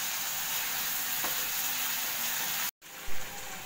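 Prawn malai curry frying in oil in a pan, a steady close sizzle that runs unbroken, cuts out for a split second near the end, then resumes with a brief stir.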